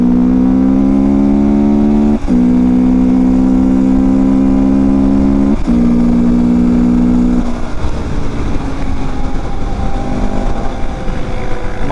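A quad bike engine runs steadily and loudly up close with a strong droning hum whose pitch shifts in small steps, easing into a rougher, lower idle toward the end.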